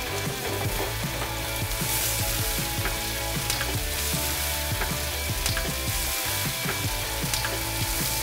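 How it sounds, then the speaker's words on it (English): Onion, garlic, turnips, rutabagas, celery, carrots and butternut squash sizzle steadily in a hot pan for braising, a dense continuous frying hiss with occasional stirring scrapes, close and loud, without speech. "Now into the pan goes onion, garlic, turnips, rutabagas, celery, carrots, and butternut squash."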